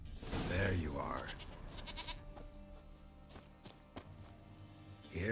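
A goat bleats in The Witcher 3: Wild Hunt, a wavering call near the start followed by faint in-game ambience, footsteps and a soft clop, with a voice speaking briefly over it.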